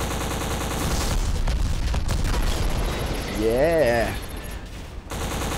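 Heavy gunfire and explosions in the shooter Black, a dense continuous barrage of shots and booms throughout, with a voice briefly speaking near the end over the din.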